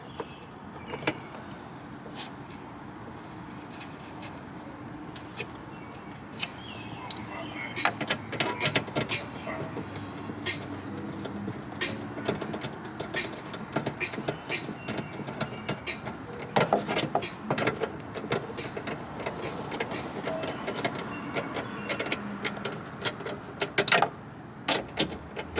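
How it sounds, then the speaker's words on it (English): Steady street background noise on a San Francisco street beside a parked Mazda 6, a continuous broadband hum with scattered clicks, knocks and rattles growing busier partway through, no speech. "You hear all these background noises because I'm on a street in San Francisco"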